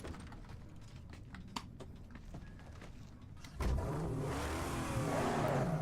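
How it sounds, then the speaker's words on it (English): A car engine revs in the Mad Max video game. Clicky mechanical ticks come first, then a loud, sustained roar starts abruptly about halfway through and holds steady to the end. "Revving the engine."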